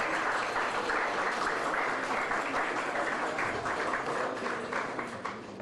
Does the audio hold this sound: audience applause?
yes